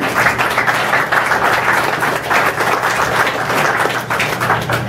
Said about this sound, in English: So give him a warm round of applause as we welcome him.